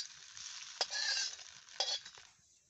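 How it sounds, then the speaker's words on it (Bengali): Fried tempering tipped into a rice paratha mixture and stirred through, giving a steady soft sizzle with two sharp scraping knocks of a spoon against the pan, no voices. "এবারে ভালো করে মিশিয়ে নেব।"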